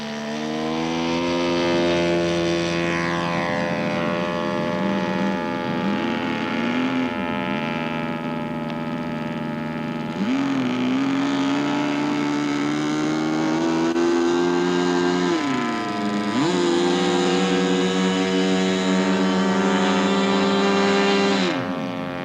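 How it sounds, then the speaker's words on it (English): A model aircraft, a 1999 Old Tin Shed build, makes a low pass with a steady loud droning engine whose pitch rises and falls as it sweeps by, sustained throughout with no talk. "We get a low pass, Bill."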